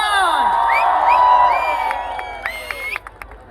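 An audience at the Kasar Devi festival in Almora cheers and whoops for a band, loud near shouts and rising whistles over clapping that thins into scattered claps and calls toward the end.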